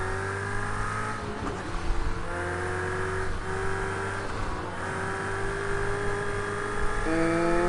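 A McLaren's engine drones steadily in a PS5 racing game, with rising and falling revs and gear shifts across the run, loud and continuous throughout.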